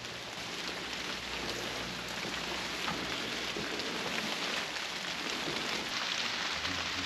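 Rain falls steadily in a forest, making a constant dense patter close by with no voices.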